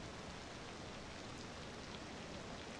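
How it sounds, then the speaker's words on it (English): Steady rain falls in the city-building game Cities: Skylines 2, a soft, even, continuous hiss that stays faint and unbroken throughout with no voices. "And we also have a guy, James Rojas, sitting outside in the rain."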